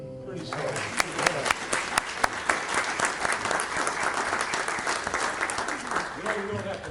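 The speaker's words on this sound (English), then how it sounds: "you don't have to clap for me" An audience at a church talent show breaks into loud applause that builds and carries on steadily, with a few sharp claps standing out near the start and a voice speaking briefly at the edges.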